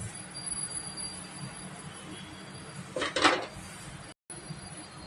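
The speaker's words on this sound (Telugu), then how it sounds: "ఇప్పుడు ఇలా ముందు కడాయి పెట్టాలి" A kadai, a metal wok, set down on a kitchen stove while fish curry is being made: a short metallic clatter partway through over low background hum, with no talking.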